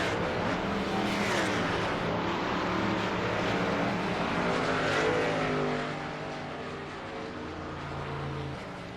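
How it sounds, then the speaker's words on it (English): A field of NASCAR-style stock cars rolls down pit road at the pit speed limit during the Brickyard 400, engines droning loud and steady together for most of the stretch, then easing slightly lower toward the end. "All these cars coming down pit road at about 55 miles an hour on the speed limit"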